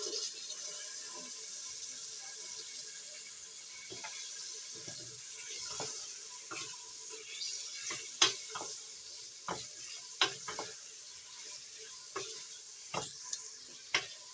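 Turnip and spinach being stirred into frying masala in a pan, a steady soft sizzle with scraping spoon clicks and clattering stirs recurring throughout.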